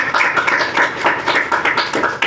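Church congregation clapping along during a Sunday Hindi sermon, a dense, steady run of close, loud hand claps filling the whole stretch with no voice on top.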